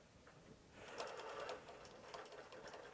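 A Bernina Q-Matic automated quilting machine stitching, a quiet, rapid, even needle rhythm that rises after a soft start and continues steadily, fairly faint and close, with no talk.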